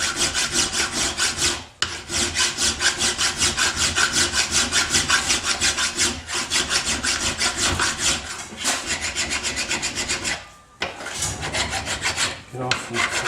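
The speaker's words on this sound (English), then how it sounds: "Let's go file it up, make it fit." Steady hand filing on metal to make a part fit during a ride-on mower rebuild: continuous rapid rasping strokes, loud and close, with a few brief pauses between runs of filing.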